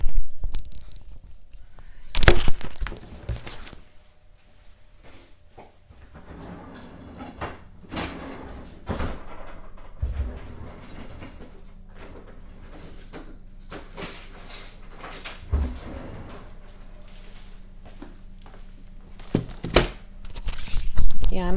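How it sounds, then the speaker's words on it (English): A drawer slides open and shut with scattered clunks and rattles, then bead-craft supplies are handled during making a crown Christmas ornament. "Let me go grab those from my drawer."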